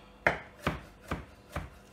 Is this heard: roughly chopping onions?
yes